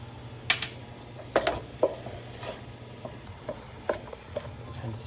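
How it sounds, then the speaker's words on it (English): Spoon stirring a salted food mixture in a pot, a few scattered soft scrapes and clicks over a steady low hum, fairly faint with no talk. "And stir it up."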